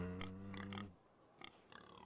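A pig grunts and oinks in a video game, a few short, close calls, with a low drone at the start.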